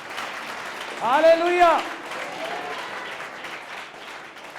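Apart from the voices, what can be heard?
audience applauding in church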